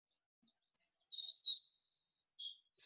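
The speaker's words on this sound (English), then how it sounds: "let's take a look at the little Savannah Sparrow here" Song of a Savannah Sparrow in a wet summer hayfield in the Yampa Valley: a few faint high introductory chips, then a thin buzzy trill that fades out, with a short note at the end, alone and fairly distant.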